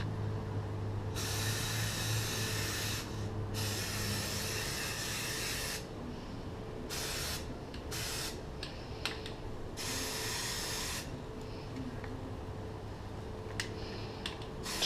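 Steady hissing spray from an aerosol can of NeverWet waterproofing on boots, with short pauses between long bursts, close and continuous over low background noise.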